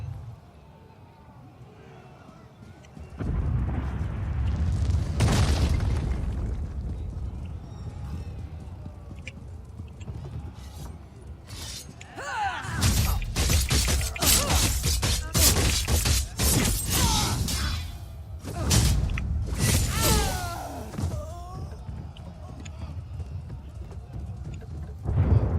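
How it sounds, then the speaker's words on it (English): Repeated booming explosions in the Elder Scrolls Online game, a heavy blast followed by a rapid cluster of crashing bursts, loud and rumbling with low debris-like rolls between them. "All these explosions."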